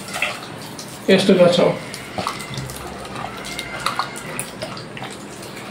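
Bael fruit pulp being squeezed and mixed with water by hand, a short burst of wet squishing and sloshing, close and fairly loud, under a brief spoken phrase.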